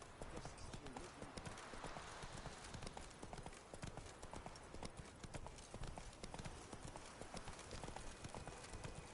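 Roach, the horse in The Witcher 3 video game, gallops with quick, rhythmic hoofbeats clattering close and steady throughout, while a voice talks over the running.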